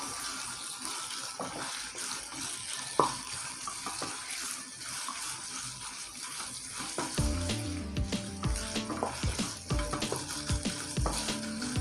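Chicken mince fries in a pan for spring roll filling, heard as a steady close sizzle with watery hiss, joined partway through by louder clattering and scraping from stirring.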